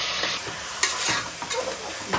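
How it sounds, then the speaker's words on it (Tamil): Half a kilo of chicken sautéing in a pan for coconut chicken kuruma, a constant close sizzle broken by several scraping stirring strokes, with no voices. "நல்லா வதக்கலாம்."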